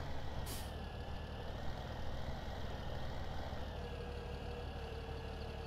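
A tractor engine idles steadily in Farming Simulator 17, a continuous low rumble with a faint airy hiss near the start, heard alone without talk.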